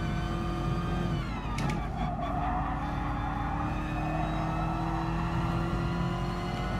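A Corvette's engine drones steadily in the racing game Gran Turismo Sport, a continuous close-up hum with a slight pitch shift partway through and a faint voice underneath.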